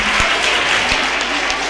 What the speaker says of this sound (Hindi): तालियां बजा लीजिए।